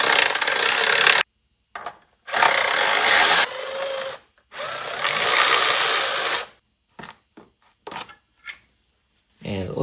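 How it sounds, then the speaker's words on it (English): Tools working on the upper timing belt cover of a Mazda Miata during a water pump job, three loud broadband bursts of scraping and whirring separated by pauses, then scattered short clicks and knocks. "so I'm going to take off the upper timing belt cover"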